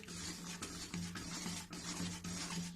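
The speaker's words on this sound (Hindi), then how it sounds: "अब इसको अच्छे से मिलाऊंगी।" Ghee being stirred into jaggery syrup in a pan for gur chikki, a steady close scraping and rubbing with repeated strokes, no talking.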